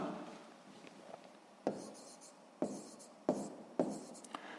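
A pen scratches across paper in short strokes, with quiet rubbing and a few sharper taps roughly every second as numbers are written down in a sixth-grade maths exercise.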